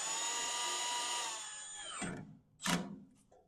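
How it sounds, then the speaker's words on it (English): Power drill whirring steadily while driving screws into the legs of a Camp Chef XXL Pro smoker, then stopping, followed by a short sharp burst as the motor briefly spins again, close and fairly loud. "If you are going to use a drill too, make sure that you go gentle with it so you don't strip any of these screws."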